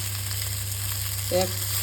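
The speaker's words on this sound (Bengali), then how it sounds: "পটল বড়াগুলো দেখুন দারুণ কিন্তু লাল লাল করে আমি ভাজা করে নিচ্ছি" Pointed gourd fritters (potol bora) fry in a pan, browning in hot oil with a quiet, even sizzle over a low hum, broken near the end by one short, ringing utensil sound.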